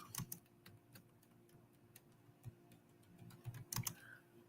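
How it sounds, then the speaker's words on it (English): Typing on a computer keyboard comes as irregular, quiet clicks and taps, with small bursts of keystrokes close to the microphone. "let me type my thing down here"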